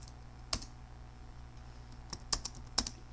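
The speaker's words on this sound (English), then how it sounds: "I'm going to type in 30" Keystrokes on a computer keyboard while drafting in AutoCAD: a few sparse, quiet clicks, a lone tap, then a short cluster of three or four quick presses near the end, over a low steady hum.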